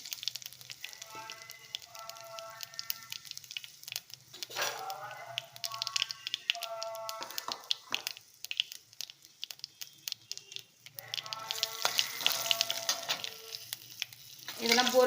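Urad dal, mustard seeds, curry leaves and asafoetida splutter and sizzle in hot oil, bursts of crackling popping coming in uneven waves with quieter pauses between, loud and close.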